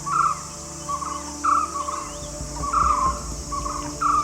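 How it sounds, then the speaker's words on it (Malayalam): A white-cheeked barbet calls outdoors with repeated short bursts of notes, spaced about every second and a half, moderately near over a background hum. "ഇതെന്ന് പറയുന്നത് നമ്മുടെ വൈറ്റ് ചീക്ക്ഡ് ബാർബറ്റ്, അതായത് ചിന്നക്കുട്ടറു എന്ന് പറയുന്ന ഒരു പക്ഷിയുടെ ശബ്ദമാണ്"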